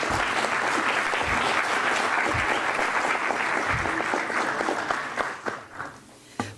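An audience at a heraldry society's year-end ceremony breaks into dense, steady applause that carries on for several seconds before thinning into scattered claps near the end.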